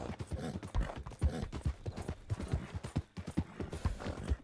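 Horse hooves gallop in Red Dead Online, a close, loud, rhythmic clip-clop of quick irregular strikes that continues for several seconds.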